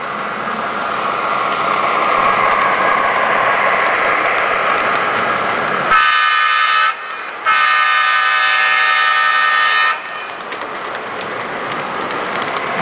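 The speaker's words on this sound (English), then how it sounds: "Great sounding horn" An O-scale Seaboard GP40 model locomotive rolls past with a steady mechanical rattle, then sounds its horn in two loud blasts separated by a brief gap before the running clatter continues.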